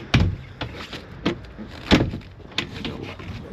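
Cabin door on a Robalo 246 Cayman boat pushed shut, giving a sharp close thud followed by a few lighter knocks and latch clicks, near and without talk.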